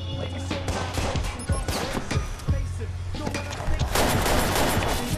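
Rapid bursts of gunfire from a Watch Dogs firefight, shots fired up through a floor, crackling close and loud in dense volleys with short gaps across the whole span, under faint game sounds.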